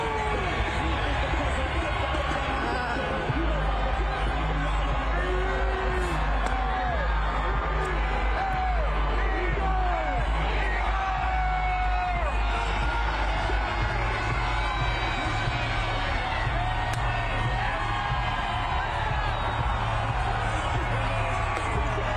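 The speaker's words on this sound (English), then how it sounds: "let's just listen for a moment to hear the roar of the crowd" A huge crowd roars, cheers and whoops continuously at the Philadelphia Eagles Super Bowl championship parade near the Art Museum steps, a dense, loud wall of voices with scattered shouts rising above it.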